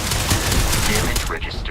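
Rapid bursts of gunfire from a modded Starfield playthrough, dense and continuous across the moment, loud and close in a busy game mix, with a low rumble underneath and a faint voice toward the end.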